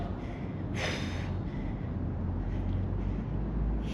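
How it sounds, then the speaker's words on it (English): Heavy workout breathing in close, with a sharp forceful gasp or exhale near the start over steady low rumbling background noise and wind-like hiss, and no talking. "Deep breaths."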